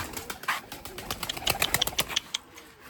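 Breeding lemon-colored pigeons coo and flutter in a loft, soft repeated calls building into a dense patter of short chirps and wing sounds mid-clip, fairly close but not loud.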